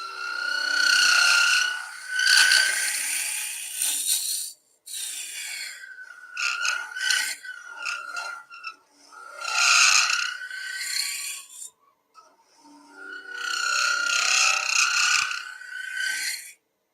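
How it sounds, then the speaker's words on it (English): A spindle gouge cuts wood on a lathe and throws off shavings, making repeated raspy, hissing scrapes in bursts of a few seconds with brief gaps between passes, close and fairly loud, with no talking. "You see we're actually getting shavings off that coming the right way."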